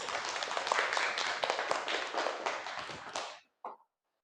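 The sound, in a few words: audience applauding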